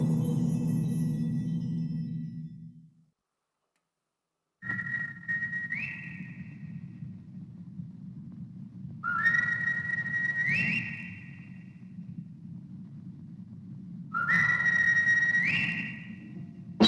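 A person whistles the opening of an overture: three rising two-note calls with short gaps, clear and fairly close over a low background hum, after a brief stretch of music.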